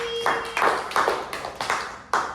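A small group claps briefly after a student roleplay performance in a dance education class, a handful of sharp bursts spaced about half a second apart, each trailing off quickly.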